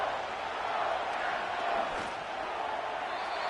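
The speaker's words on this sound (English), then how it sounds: "The crowd making their presence felt." Steady roar of a football stadium crowd during a Packers versus Vikings game, a broad, sustained wash of cheering and noise that swells slightly in the middle.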